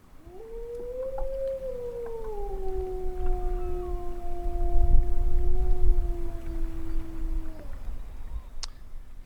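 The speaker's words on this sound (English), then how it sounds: "I thought I'd play one of TAKAYA's lonely howls" A lone wolf gives one long, sustained howl, rising at first and then holding a steady, mournful tone for several seconds before trailing off, with a faint breathy background.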